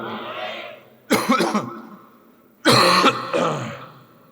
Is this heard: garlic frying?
no